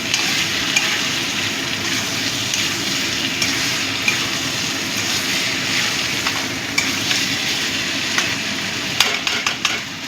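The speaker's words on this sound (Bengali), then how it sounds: "আদা রসুন বাটাটা দিয়েও ভালো করে মিশিয়ে নেব।" Mutton mince being stirred with ginger-garlic paste in a frying pan for kima curry, a steady broadband sizzle and scrape that runs throughout, close and fairly loud, with a few sharper clicks of the utensil near the end.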